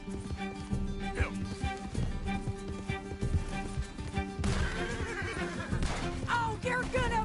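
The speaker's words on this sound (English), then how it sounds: "Can't this horse go any faster?" A horse neighs during a chase in Red Dead Redemption 2, whinnying calls rising over hooves and game music, with voices talking in the background.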